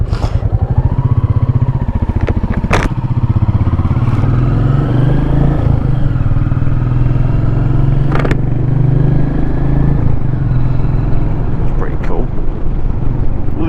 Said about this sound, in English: Just glides around the bends this motorbike.